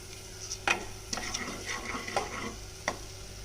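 Caramelized onions sauté in a pan for Sindhi browned rice, a soft background sizzle punctuated by several distinct spatula scrapes and clinks against the pan, fairly quiet and close with no talking.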